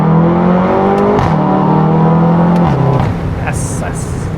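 VW Golf 7.5 R engine pulling steadily under acceleration while driving, a loud continuous drone with rising harmonics, then a gear shift, and the sound eases slightly near the end.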